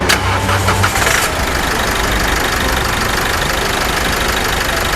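A 2019 Isuzu D-Max 1.9 L Cab Hi-Lander diesel pickup cranks briefly and catches, then settles into a steady, even idle that carries on alone.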